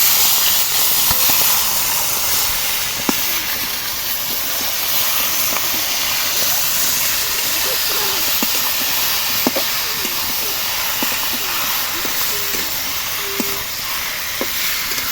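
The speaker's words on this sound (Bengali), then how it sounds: "আমি মাংসগুলো সব কড়াই দিয়ে দিচ্ছি" Steady, loud hiss of duck meat sizzling in hot oil in a wok throughout, with scattered small pops and clinks over the continuous frying noise.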